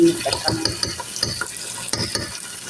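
Onions sizzle in a pan with a spoonful of salsa, stirred in a steady series of close scrapes over a continuous frying hiss.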